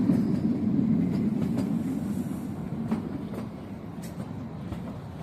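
The Kalka-Shimla toy train rolls into Solan station with a steady rumble and rhythmic wheel clatter from inside the carriage. The sound slowly eases as the train slows.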